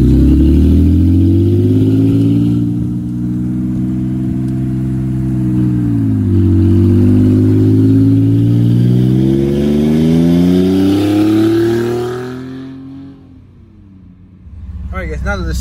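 Straight-piped Mercedes W204 C300 exhaust droning loud and close while driving, its deep harmonic engine tone rising and falling steadily with throttle, dipping briefly near the end.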